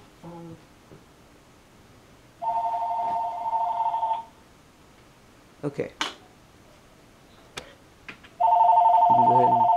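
A telephone rings in two bursts of electronic trilling, the second longer and louder, separated by brief clicks and handling noises, with a single spoken word in between.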